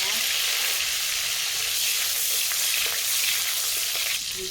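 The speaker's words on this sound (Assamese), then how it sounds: "দিছোঁ জলকীয়া" Green chillies sizzle in hot oil in an iron wok in a home kitchen, giving a steady, loud, bright hiss that runs unbroken from start to end.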